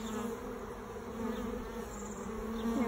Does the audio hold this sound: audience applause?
no